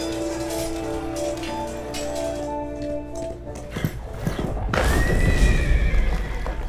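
Horses neigh with long, high whinnies, then hooves clip-clop and scatter loudly near monastery gates, the whinnies overlapping the rising hoofbeats.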